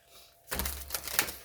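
Tarot cards riffle and slap together in a quick shuffle, a soft flurry of papery clicks that starts abruptly after a quiet moment.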